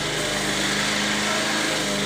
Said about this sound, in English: I'm trying to talk over the lawnmower.